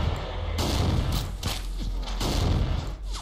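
Space Station 13 game combat: repeated heavy gunfire and grenade blasts hit in booming bursts, several loud explosions spaced across the stretch with rumbling low tails.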